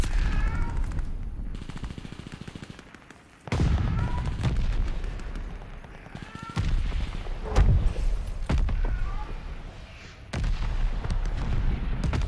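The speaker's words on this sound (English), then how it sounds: "Allied mortar fire inbound." Mortar fire in the video game Call of Duty Vanguard: heavy booming blasts mixed with rapid gunfire bursts, dense and loud throughout, with a voice speaking intermittently.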